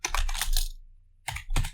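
Typing a netcat command on a computer keyboard: two bursts of close, crisp key clicks, several rapid taps, then a short pause before a few more strokes.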